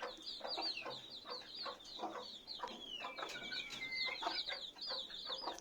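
A white-necked hen about a year old clucks in low, repeated pulses close by while her frizzle-feathered chicks keep up a steady stream of high peeping all around her.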